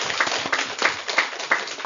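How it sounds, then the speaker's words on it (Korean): Audience applause at a church gathering, a fairly quiet round of clapping from a group with uneven rhythmic pulses over about two seconds. "우리 어머님을 위해서 감사의 큰 박수를 한번 올려드리면 좋겠습니다"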